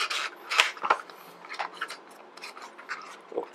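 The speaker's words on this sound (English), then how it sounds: "so let's cut it through and unbox. So cut it through from the top." Blade slitting cellophane tape across the top of a Logitech G90 wired gaming mouse box, heard as close, quiet scraping and rasping strokes with a few sharper snips, alone without talk.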